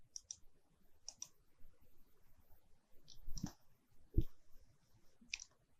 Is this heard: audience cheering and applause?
no